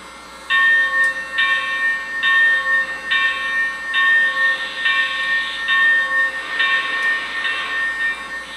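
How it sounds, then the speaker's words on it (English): Bell of a Lionel Legacy O scale Pennsylvania Railroad K4 4-6-2 Pacific model steam locomotive, ringing in a steady, evenly spaced clang, loud and close, with no one talking. "now let's hear what the bell sounds like."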